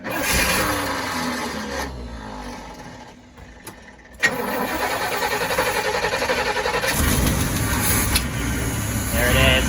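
A 1973 GMC RV engine is started with a battery boost: a rough grinding crank, a pause, then the engine catches and runs loud and close at a steady idle, with talk over parts of it.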